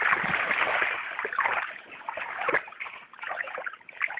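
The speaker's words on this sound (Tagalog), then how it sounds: "Pag wala po akong ginagawa, dito po ako nagtatampisaw." Someone splashes about close by in clear water in Mindanao, producing irregular slaps, splatters and trickling drips in quick succession with no talk.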